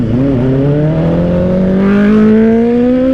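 A Honda CB500 big bike on a road under a city flyover revs up steadily, its engine note climbing smoothly in pitch and loudness over a few seconds, close by amid traffic noise.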